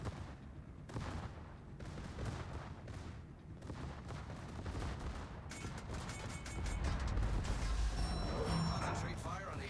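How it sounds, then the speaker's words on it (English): Naval guns fire in a World of Warships brawl battle, a run of booming shots and rumbling blasts that thicken into a dense, louder barrage toward the end. "Concentrate fire on the enemy warship."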